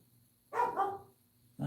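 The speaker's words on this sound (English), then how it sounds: "The dogs are barking." A dog barks two sharp, fairly close times, a short double bark with a pause, then a single bark at the end over quiet room tone.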